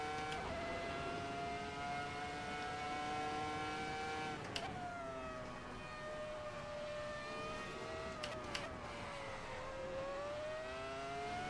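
Simulated 2004 Formula One race car in a racing video game, its engine a steady high-pitched whine that climbs and dips through gear changes across the whole stretch, with brief sharp shifts partway through.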